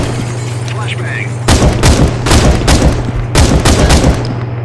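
Flashbang grenade in a video game going off: a run of sharp broadband bangs and bursts in quick succession after a short quiet stretch, loud and close over a steady low hum.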